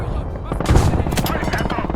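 Enemy gun firing in the WWII game Gates of Hell: Ostfront, a loud boom followed by continuous rumbling gunfire and battle noise lasting throughout, with a voice shouting over it.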